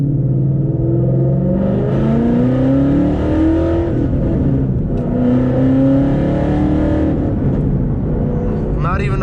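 A car engine revs up and drops back as gears are shifted after a small shifter modification, with loud, rising engine tones repeating twice and a person talking over it.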